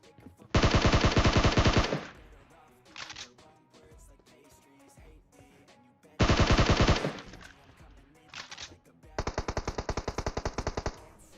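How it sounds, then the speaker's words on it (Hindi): Automatic gunfire in the mobile battle-royale game PUBG Mobile: several loud rapid bursts of machine-gun fire separated by quieter in-game sounds, with one shorter burst and a final rattling volley. "अब उधर पे चल रही होती है दबा के गोलियां दोबारा।"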